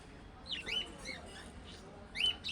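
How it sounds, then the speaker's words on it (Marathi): Small colourful parrots give a few thin, faint squawks and chirps in short bursts, heard against a quiet low rumble. "काय इकडे छोटेवाले रंगीत आहेत पोपट"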